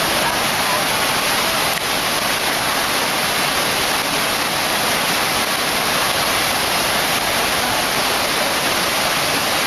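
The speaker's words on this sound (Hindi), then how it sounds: "पानी बहता हुआ इन ट्रैक के ऊपर से निकल कर जा रहा है।" Floodwater after heavy rain in Hyderabad rushing over a submerged railway track, a loud, continuous roaring wash of water with no let-up.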